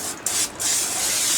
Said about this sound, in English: So I just make sure I spray the hand boss